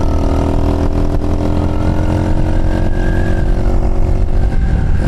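Chinese motorcycle engine lugging in too high a gear, a loud, steady, low labored drone close up throughout.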